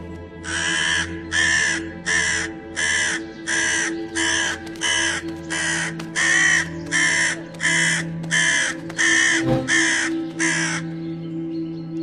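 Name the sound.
crow cawing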